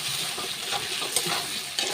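Rooster chicken pieces with skin frying in their own released fat while being stirred in a pan; a dense, close sizzle with soft scraping stir strokes, no voices.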